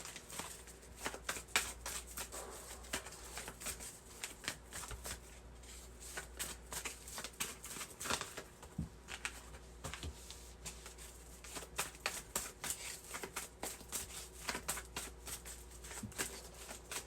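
Tarot cards are shuffled by hand in quick riffling bursts of papery flicks and taps, repeated steadily and heard up close at low volume with no talking.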